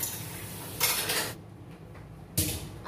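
Rice mandi being stirred in a cooking pot, two bursts of metal scraping and clinking separated by a quieter pause, close and fairly soft with no talking.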